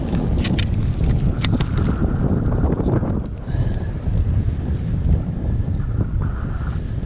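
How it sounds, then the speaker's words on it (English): Steady wind buffeting the microphone by rocks along the Alabama River, a constant rough roar that fills the whole clip with no one talking. "You can probably only hear the wind."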